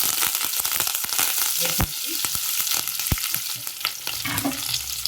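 Curry leaves crackle and sizzle loudly in hot oil for South Indian tomato rasam, a dense steady frying hiss broken by sharp pops and stirring clatter throughout, with no voices.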